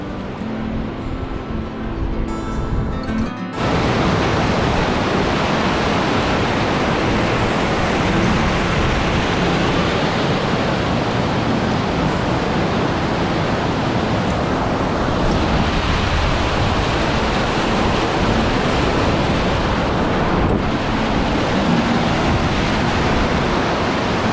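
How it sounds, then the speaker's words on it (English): A waterfall along a canoe portage in Quetico gives a loud, unbroken rushing roar that fills the whole stretch after a brief quieter opening. "Check out that waterfall."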